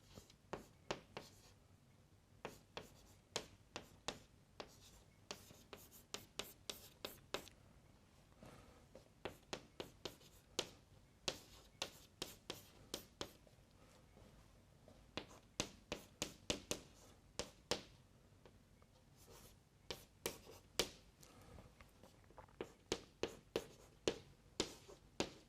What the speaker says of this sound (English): Unfortunately, here we have to do some writing.